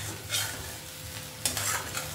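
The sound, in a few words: jeera rice with ghee being stirred in a pan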